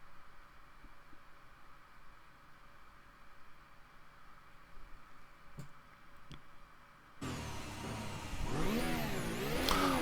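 A Renault-powered 2020 Formula 1 car in Assetto Corsa stays near-silent at first, then its engine cuts in and revs in rising and falling sweeps over the last few seconds, growing louder toward the end.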